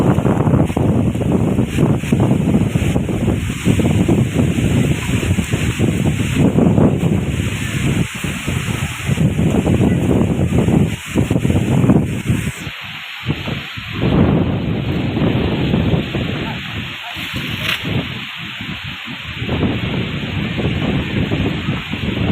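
Strong wind gusts roar loudly and continuously across a coastal village near a beach, battering the microphone with dense broadband noise, easing briefly in short lulls before surging again.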